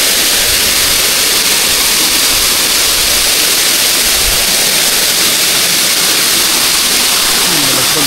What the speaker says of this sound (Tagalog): Malagbag Falls.